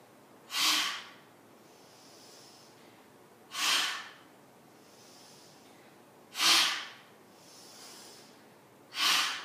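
Deep yoga breaths drawn in and pushed out through the mouth, four loud airy exhales at a slow, even rhythm with soft inhales between, close and alone.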